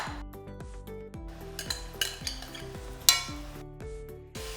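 A utensil stirs bacon jam with brown sugar, onions and thyme in a pan, giving soft scraping and a few sharp metallic clinks over steady background music.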